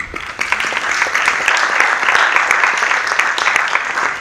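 An audience at a financial education summit keynote claps loudly and steadily, a dense burst of applause that holds for about four seconds.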